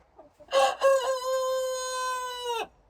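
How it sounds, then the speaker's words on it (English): A young rooster about five months old gives a single loud, close crow lasting about two seconds, strong and steady before it cuts off sharply. "So now he and Robert are having a crowing battle"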